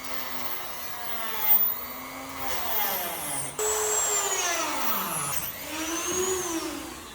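A power tool cuts a socket opening into a wooden panel while a studio TV corner is being built, giving a continuous loud whine that rises and falls in pitch as the blade bites, with no talking.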